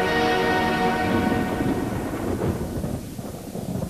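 Loud rolling thunder from a lightning storm, a long sustained rumble that slowly decays over several seconds with no talk.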